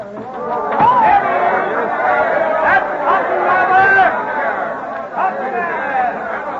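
A crowd of townspeople in colonial Boston murmurs and chatters below an open window, a steady babble of many overlapping voices at a moderate distance.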